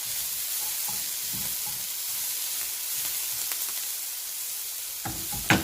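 Bacon sizzles steadily in a frying pan, a continuous bright crackle and hiss with a few louder pops and a sharp spike near the end, close and alone with no talk.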